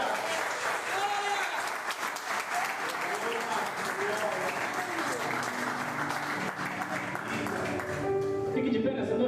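A church congregation applauds in a continuous wash of clapping beneath a voice and music, rising slightly toward the end.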